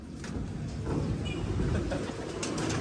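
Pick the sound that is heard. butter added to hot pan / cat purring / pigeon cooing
pigeon cooing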